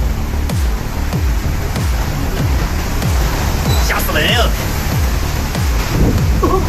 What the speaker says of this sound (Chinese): 狂风暴雨夹带冰雹